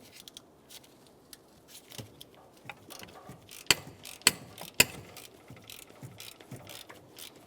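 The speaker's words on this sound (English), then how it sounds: "with an extension and your 9/16 or 14mm socket, we're going to put that right on that bolt head" A ratchet and socket on an extension loosen an exhaust manifold bolt on a 1992–1996 Ford F-150, making quiet, irregular ratcheting clicks close by, with a few sharper metallic clacks partway through and no talking.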